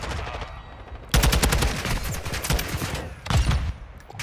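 Rapid gunfire from Call of Duty: Modern Warfare 2 ranked multiplayer, loud sustained bursts of automatic shots after a quiet start, with a second heavy burst near the end.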